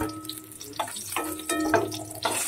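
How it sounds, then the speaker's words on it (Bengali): Eggs frying in oil in a pan, a moderate crackling sizzle broken by a few bursts of spatter and utensil scrapes, no voices. "ডিমগুলোকে আমি ভালো করে ভেজে নেব।"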